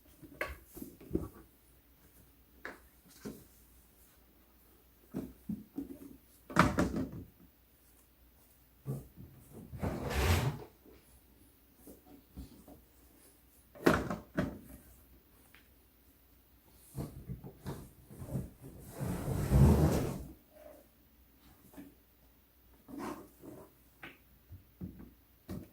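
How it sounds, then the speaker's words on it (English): A plastic drop-front shoe box has its door opened and its backing pushed out, giving scattered clicks, taps and scraping handling noises with a few louder knocks spread over about twenty-five seconds, fairly quiet and close. "You just need to open it up and then open the door and then push that backing out."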